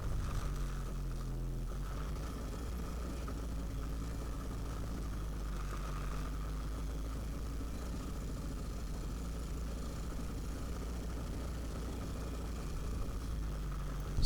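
An ATV rolls along a wooded trail at Smurfwood Trails at an easy pace, its engine a quiet, steady drone with road and wind noise holding the same level throughout.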